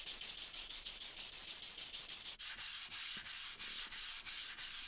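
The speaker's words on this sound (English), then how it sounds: "I'm going to rub it along the P80 grit back and forth until it's nice and flat." A vintage Draper No.5 jack plane sole rubbed back and forth on P80 grit abrasive, giving a steady rhythmic rasping scrape, about two strokes per second, close and alone.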